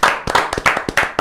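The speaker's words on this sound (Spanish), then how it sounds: "Un aplauso. Clap, clap, clap." A few quick, close handclaps in a rapid, uneven rhythm, crisp and loud, cheering on a livestream community watching a football match reaction.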